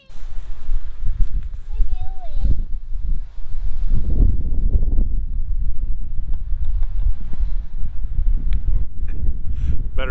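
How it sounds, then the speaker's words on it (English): Low, rumbling wind buffets the microphone throughout, gusting in heavy bursts with a brief lull partway through. "I also inadvertently picked a very windy day to do this"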